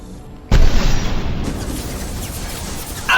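A grenade blast in the Mass Effect 2 video game: one sudden loud boom with a sharp onset, then a long rumbling decay and scattered combat noise, with another burst near the end.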